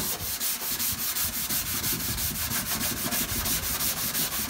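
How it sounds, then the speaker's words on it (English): Surface corrosion being scrubbed off a VW Beetle engine lid, a steady rapid back-and-forth rubbing rasp, close and loud, with no talking. "and then we scrub. So any easy to remove surface corrosion, we'll just come away with this."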